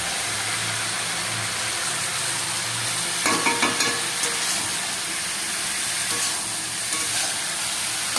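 Steady sizzle of vegetable khichuri frying with rice and lentils, with scraping stirs in the middle. A low hum sits underneath and nobody speaks.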